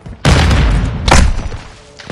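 Close, heavy incoming fire in a Warzone match: two loud booming blasts with rumbling tails, the second shorter, then a quieter pause.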